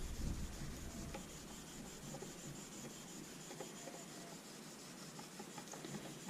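A straight razor blade is honed on a sharpening stone, a continuous soft scraping rub with faint ticks, close and steady throughout.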